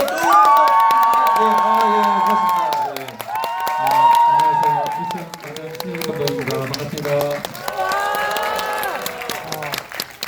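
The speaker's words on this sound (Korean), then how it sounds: "박수 한번 부탁드립니다." Audience at a cinema stage greeting at Yongsan CGV applauds and cheers loudly and continuously, with shouts rising over steady clapping while a host speaks over the crowd.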